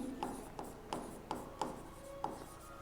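Pen or chalk writing out a share issue entry in an accounting lesson, with a steady scratching rasp broken by a series of about six sharp taps, close and unaccompanied by speech.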